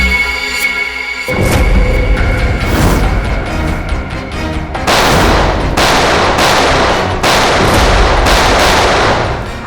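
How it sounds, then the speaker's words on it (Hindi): Gunfire at a firing range: dense bursts of loud, rapid shots, with several sustained volleys separated by brief pauses, close and forceful throughout. "Firing range."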